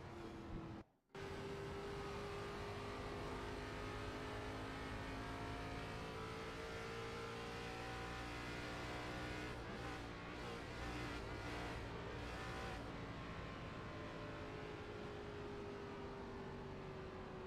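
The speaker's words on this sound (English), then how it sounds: "The engine is sputtering." A simulated race car in the iRacing game at Nashville Superspeedway runs steadily at high revs, then its engine sputters and cuts in and out as it runs out of fuel; loud and continuous, with no talk.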